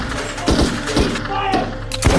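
Gunfire from the action film Sniper Reloaded, a few heavy thudding shots landing about every half second over a dense, noisy battle soundtrack, loud and close.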